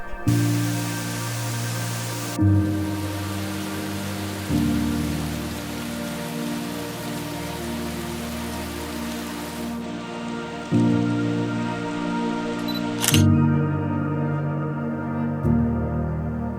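Steady rain hisses and patters without pause on a forest canopy while low sustained musical chords shift underneath.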